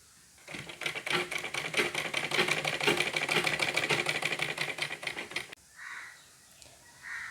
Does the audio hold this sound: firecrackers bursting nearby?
no